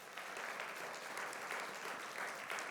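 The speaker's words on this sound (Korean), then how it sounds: "우리 감사하다고 박수 한번 할까요?" Congregation applause fills a church during a Sunday service, steady faint clapping from a crowd lasting a few seconds with no talk over it.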